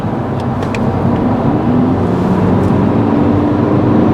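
A 2011 Volkswagen Jetta TDI turbo diesel car accelerating, a steady loud engine drone with rising tones and road rumble, continuous and close throughout with no talk.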